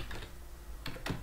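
Computer keyboard keys tapped in a short burst, a few close clicks with a brief pause between them while a command is entered.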